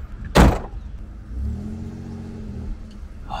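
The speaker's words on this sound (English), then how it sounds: "It's idling real nice." A loud slam is followed by the low, even idle of a 1963 Chevrolet Corvair's engine, a steady rumble close by that swells slightly partway through.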